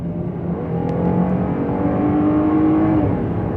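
Jeep Cherokee Trailhawk engine humming steadily while driving at speed, a continuous close drone with a rising whine and tire and road noise, no talking.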